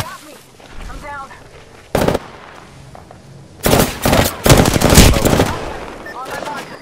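Rapid automatic gunfire in a shooter video game, loud bursts of sustained firing with a sharp single shot earlier, while a player shouts over the action.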